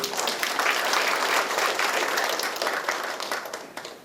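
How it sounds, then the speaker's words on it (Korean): Applause welcomes a National Assembly member at a policy forum on Seoul city hospital staffing, a full, even round of audience clapping that tapers in the final moments. "김용현 의원님 큰 박수로 환영해 주십시오"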